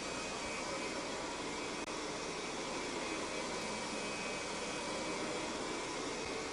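Kirby Generation 3 (G3) vacuum cleaner running on a hard surface floor, a loud, steady motor whine and broad airflow hiss that holds unchanged throughout, close and alone.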